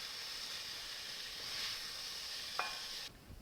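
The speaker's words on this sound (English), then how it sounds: "This is 3 cloves of garlic chopped up. And we're going to go ahead and cook that in the vegetables for 1 to 2 minutes." Three cloves of chopped garlic cook with vegetables in a Dutch oven, giving a steady soft sizzle with a brief clink near the end before the sound cuts away.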